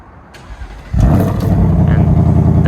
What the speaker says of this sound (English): we're going to go ahead and get the car started